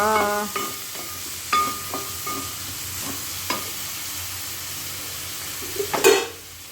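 Fried rice is stirred in a pan, with a soft sizzle underneath scattered scraping and clanking strokes of a spatula against the metal, and a louder clatter near the end.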